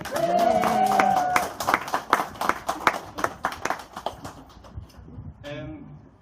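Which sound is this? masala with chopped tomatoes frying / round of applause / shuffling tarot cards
round of applause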